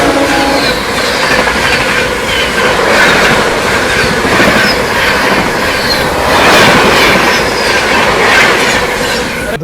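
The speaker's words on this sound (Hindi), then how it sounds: "यहाँ पर अपने से क्रॉस होती हुई 12301 हावड़ा नई दिल्ली राजधानी एक्सप्रेस फ्लैट 130" The 12301 Howrah–New Delhi Rajdhani Express crosses at speed right alongside, a loud, continuous roar of rushing coaches with rhythmic clickety-clack and squealing wheels throughout.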